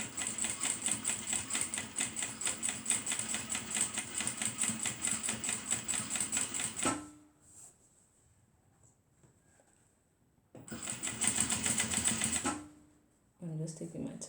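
Sewing machine back stitching fabric for a waist bag, a loud rapid mechanical stitching run for several seconds, a quiet pause, then another short burst and a brief start, without talk.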